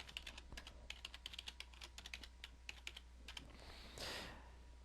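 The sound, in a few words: typing on a computer keyboard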